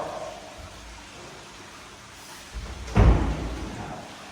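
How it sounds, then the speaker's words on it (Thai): A bathroom door in a house swings shut with a single solid thud, close and fairly loud after a few seconds of quiet room tone. "เดี๋ยวผมขอปิดประตูห้องน้ำก่อน"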